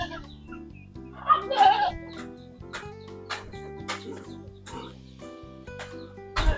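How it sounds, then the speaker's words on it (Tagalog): A sow in heat on a farm grunts and oinks in scattered bursts, moderately close, over a steady tonal background that sounds like music. "yung inahin nating baboy"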